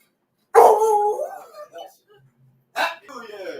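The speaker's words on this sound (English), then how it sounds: "Even the dog saying Happy New Year." A dog on New Year's Eve lets out a drawn-out, howl-like bark close by, then a shorter second yelp, with a party going on around it.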